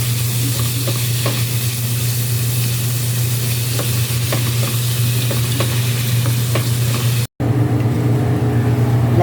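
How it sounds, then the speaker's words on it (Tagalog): Ground meat is added to a hot frying pan and stirred for creamy macaroni béchamel: a loud, continuous sizzle with scraping stir strokes and a steady low hum beneath, briefly cutting out near the end. "Lalagay na po natin ang giniling na pansahog."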